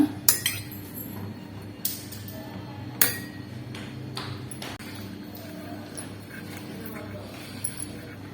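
Metal idli plates clink and ping as they are stacked and handled in a home kitchen while making rava idli, with a few sharp knocks early on over a steady background hum and faint voices.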